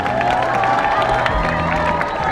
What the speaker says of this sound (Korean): 다시 한번 우리 김재동 씨에게 큰 박수 부탁드리겠습니다